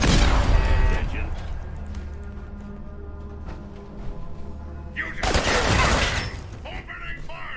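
Gunfire and a clattering burst of shots in Fallout 4, scattered cracks with a loud, dense volley midway, over a humming game background.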